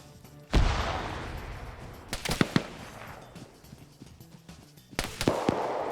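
Gunshots in a competitive online shooter match: a sharp blast, then a quick cluster of several shots, a quieter stretch, and another burst of shots near the end, loud and close.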